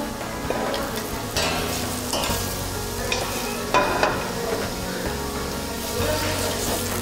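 Vegetables sauté in coconut oil with a continuous soft sizzle, broken by intermittent scraping and stirring clatter from the pan at moderate loudness and no voices.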